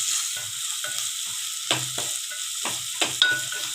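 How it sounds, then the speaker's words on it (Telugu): Ginger garlic paste sizzles and fries in a pan for a vegetable curry, a steady close hiss with soft stirring scrapes and a few brief louder clinks, no talking. "అల్లం వెల్లుల్లి పేస్టు పచ్చివాసన పోయేంత వరకు వేపుకోవాలి."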